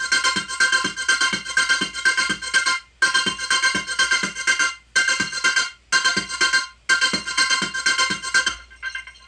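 A bright sustained synth chord with echo effects, cut by sharp automated hard stops into four blocks with brief silences, ending on a faint echo tail.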